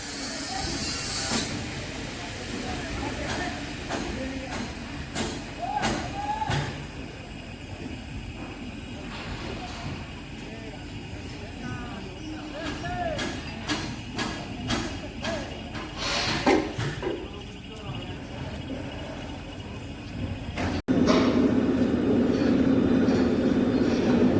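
A train rumbles and clatters along the tracks at Kottakkunnu near NH66 in Kannur, with steady rolling noise and occasional hissing, and a louder surge near the end as it passes close.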